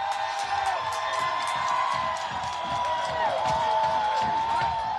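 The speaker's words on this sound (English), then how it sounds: "I just wanted you to hear the sound of people cheering as the Third Precinct appears to be on fire at this time" A street crowd of protesters outside the burning Minneapolis Third Precinct police station shouts and whoops, a dense, continuous wash of many raised voices with sustained yells, steady and fairly loud throughout.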